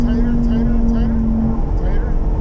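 Lamborghini Huracan EVO Spyder on a race track, loud steady engine drone heard from inside the car under acceleration, with someone speaking over it.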